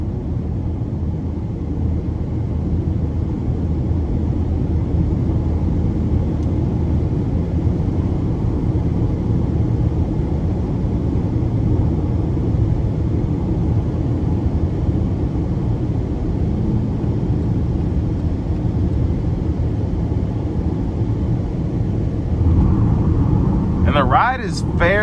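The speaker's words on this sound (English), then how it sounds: "I apologize if the AC is a little loud" Air conditioning blowing steadily inside the cabin of a 2020 Chevy Equinox LT 1.5T on a hot day, a loud, even broadband rush with road rumble beneath it, unbroken for the whole stretch.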